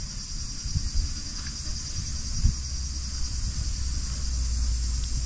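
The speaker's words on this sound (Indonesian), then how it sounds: "Dengar nggak guys suara serangga tuh?" Insects chirp outdoors in the Japanese countryside, a steady high-pitched drone running unbroken throughout, with faint low rumbles and a soft thump underneath.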